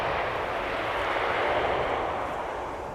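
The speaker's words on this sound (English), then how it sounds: "belated deployment of the reversers" An airliner landing at Amsterdam Schiphol deploys its thrust reversers, producing a broad, steady roar of jet noise that holds loud and even for about three seconds with no voices.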